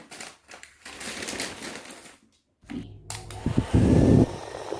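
A hair dryer on its cool setting blows with a soft, uneven whir that drops out briefly midway, then returns louder and closer near the end.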